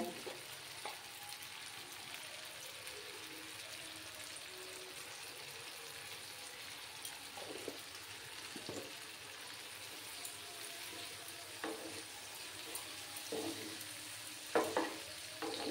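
Dried shrimp frying slowly in a pan over low heat with turmeric, giving a steady soft sizzle and crackle broken by occasional stirring scrapes and louder pops near the end.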